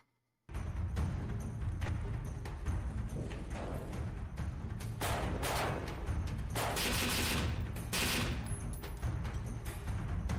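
Rapid bursts of gunfire crack through a military action short film scene, loud and dense, with several sharp volleys cutting over a constant rumbling background throughout.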